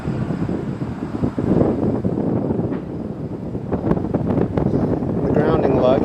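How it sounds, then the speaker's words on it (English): Strong wind buffets the microphone atop an abandoned water tower with continuous roaring and gusty rumble, loud and close throughout. "It is really windy up here today."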